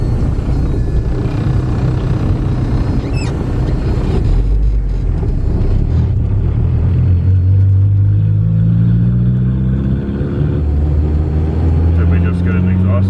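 Turbocharged K24-swapped Honda Civic running with its exhaust cutout open, a loud, steady low rumble that swells as the engine climbs in revs, with voices talking over it.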